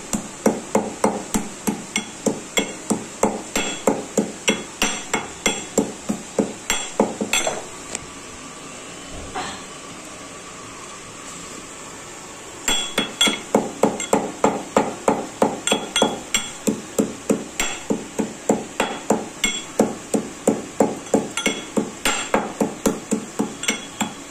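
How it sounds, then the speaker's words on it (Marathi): Cloves and cinnamon pounded by hand, a rapid run of sharp rhythmic thuds close by, pausing for a few seconds midway before the steady strikes resume. "तोपर्यंत मी इकडे हे लवंग, दालचिनी हे सगळं कुटून घेते"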